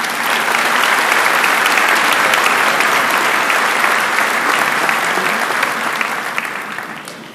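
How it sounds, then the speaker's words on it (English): A large crowd at a 2011 high school commencement gives a loud, sustained round of applause, steady and full for most of the stretch before tapering slightly at the end. "please join me in honoring him with a round of applause"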